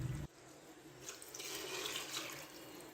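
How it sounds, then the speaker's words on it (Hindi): Water pours from a tap into a pan for a mutton karahi curry, a brief clatter giving way to a steady, gentle splashing stream that stays fairly quiet throughout. "अब हम यहाँ पर थोड़ा सा पानी ऐड करेंगे"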